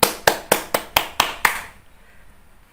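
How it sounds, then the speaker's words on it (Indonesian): A classroom of young children claps in unison, seven sharp, evenly spaced claps, then silence. "Tepuk tangan untuk anak-anak semuanya."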